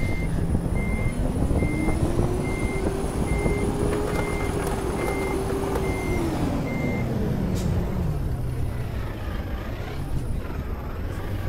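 Truck in Euro Truck Simulator 2 on a Brazilian map, a steady evenly spaced series of reversing beeps over the loud droning engine. The engine pitch climbs and then falls away, and the beeping stops partway through.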